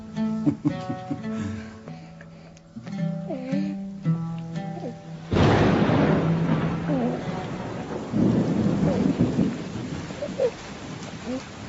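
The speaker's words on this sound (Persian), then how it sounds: "این باران هم از برکت قدوم توست فرزندم." Steady rain with a burst of thunder rolls in partway through, sounding close and loud, after an opening stretch of swelling orchestral music.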